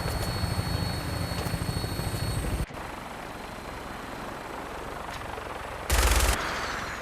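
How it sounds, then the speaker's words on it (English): A minigun fires from an aircraft in Fallout 4 as a loud, steady rattle over the drone of the rotors. It cuts off partway, then comes back in a short, louder burst. "That minigun in front of you is loaded and ready to fire."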